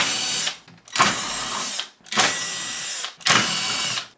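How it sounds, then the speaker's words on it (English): Screws are backed out of a Sony SLV-740HF VCR with a power screwdriver in three or four close, loud whirring bursts separated by short pauses. "now we'll just go ahead and pop off a couple of screws"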